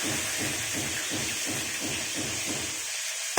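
Green bell peppers fry in a hot pan with onions and tomatoes, giving off a steady, bright sizzling hiss with rhythmic lower bubbling beneath it that eases off near the end.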